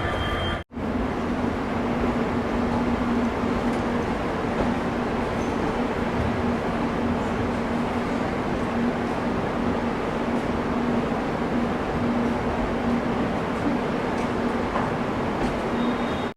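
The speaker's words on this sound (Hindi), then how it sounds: "तो फाइनली हम लोग की ट्रेन पहुंच चुकी है हावड़ा रेलवे स्टेशन" Steady rumble of the Chennai–Howrah Mail heard from inside a 2nd AC coach as it pulls into Howrah station, a continuous low drone with a faint hum and one brief dropout near the start.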